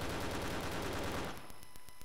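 Rapid automatic gunfire from a weapon in the Battlefield shooter game, a dense burst of close, loud shots for over a second that cuts off into a few sparse trailing reports and echoes.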